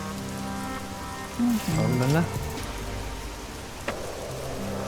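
Steady rain pattering in the video game Schedule 1, a continuous hiss running through the clip, with a person talking briefly over it.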